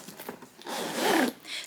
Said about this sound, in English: So you can see the zipper that I just opened